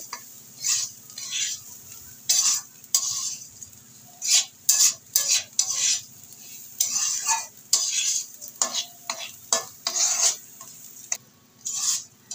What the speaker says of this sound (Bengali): চালটাকে এবার ভালো করে আমি মাখিয়ে নেব